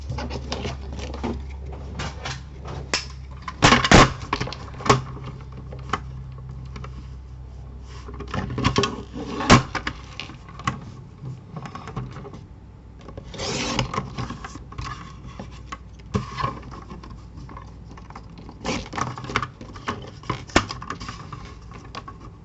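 A paper card's outline is cut out by hand for a simple beginner's card: close, intermittent rasping snips and rubbing scrapes come in uneven bursts with brief pauses, and no one speaks.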